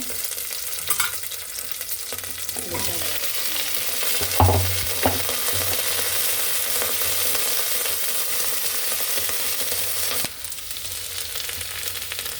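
Green chillies and onions fry with cumin in an oiled pan, a constant dense sizzle lasting about ten seconds with a few stirring knocks and a low hum beneath, then easing off at the end.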